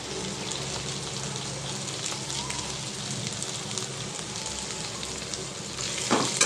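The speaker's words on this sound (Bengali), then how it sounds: "এগুলো একটু ভাজা ভাজা হতে হবে যতক্ষণ না কাঁচা গন্ধটা যাচ্ছে" Green chillies frying in a pan with ginger and garlic in a home kitchen, giving a steady, close hiss and crackle that runs unbroken throughout, with a sharper spitting burst near the end and no talk over it.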